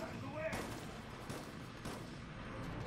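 Gunfire from the video game Resident Evil: Operation Raccoon City rings out as a few distant, muffled shots over a steady game background. No voices are heard.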